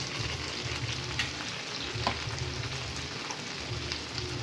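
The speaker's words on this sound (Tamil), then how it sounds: "கொஞ்சம் தக்காளி வதங்கட்டும்." Steady sizzling of tomatoes frying in a hot pan, a dense crackling hiss with occasional louder pops, no voices.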